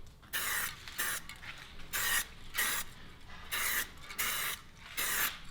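Superwrap is sprayed onto wheel spokes in repeated short hissing bursts, about eight passes with brief gaps between them, close and even.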